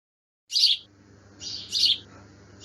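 Birds chirp outdoors in nature, two bright, high bursts of tweeting about a second apart, fairly close and clear over a quiet background.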